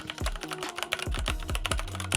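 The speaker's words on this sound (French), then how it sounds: "Là c'est vraiment le clavier à l'ancienne mécanique, donc je vous fais écouter ça de suite, surtout la touche espace" Keystrokes on an Xtrfy mechanical keyboard, including the space bar: a steady run of close, crisp clicks and thocks in a quick irregular rhythm, with no voices.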